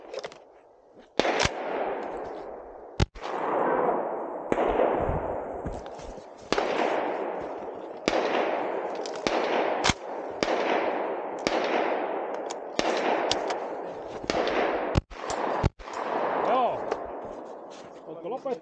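Repeated gunshots ring out at a practical shooting competition, sharp loud cracks spaced about a second or two apart over roughly eighteen seconds, each with a short echoing tail.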